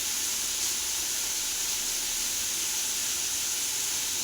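Red amaranth greens fry in a pan with a soft, even hiss, steady and unbroken throughout at a low level.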